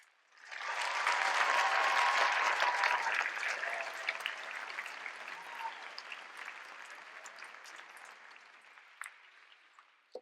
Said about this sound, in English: Could we please have one more round of applause for these exceptional students?